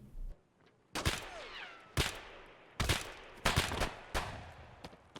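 Gunfire in the shooter game Escape From Tarkov: about six or seven sharp, loud shots spaced irregularly over a few seconds, each with a short echoing tail, some in quick pairs.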